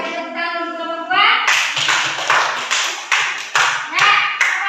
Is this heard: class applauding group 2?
yes